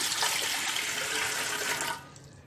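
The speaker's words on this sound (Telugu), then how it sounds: "ఇడ్లీ పాత్రలో 2 గ్లాసుల వాటర్ వేసుకొని" Water poured into an idli steamer pot, a steady close gushing stream lasting about two seconds before stopping abruptly.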